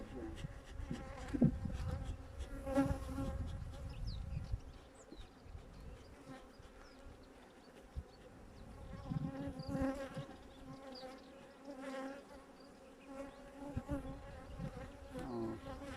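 Honeybees buzzing around an opened beehive, a close, continuous drone that rises and falls as bees fly past, with a few quiet voices and handling sounds in the background.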